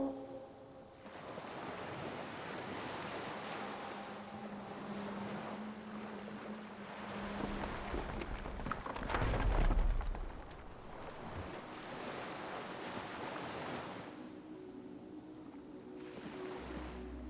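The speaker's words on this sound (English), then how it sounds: "The skiff is swaying on the waves by the dock." Water laps and sloshes steadily around a wooden skiff moored at a dock in the game Disco Elysium, with a soft wind wash and a brief louder surge midway; no voices.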